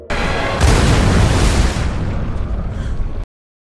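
A loud, close explosion from a film scene where a pilot blows himself up with a pursuing creature: a sudden roaring blast that rumbles on for about three seconds, then cuts to silence.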